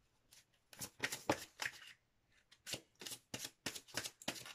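Tarot cards are shuffled by hand before a single card is drawn, giving crisp, close riffling bursts in uneven clusters separated by short pauses, with no talking.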